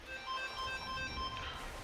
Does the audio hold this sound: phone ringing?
yes